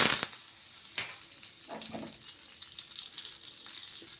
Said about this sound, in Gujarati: સૌપ્રથમ રાઈ એડ કરીશું. ત્યારબાદ આખું જીરું, મીઠો લીમડો